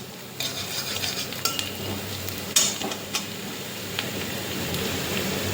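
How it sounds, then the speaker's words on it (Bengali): Chopped onions fry in a pan with a steady, rain-like sizzle, broken by sharp scrapes and clinks as a utensil stirs them. "দিয়ে দিয়েছি পেঁয়াজ কুচি। পেঁয়াজটা একটুখানি ভাজা করে নেব।"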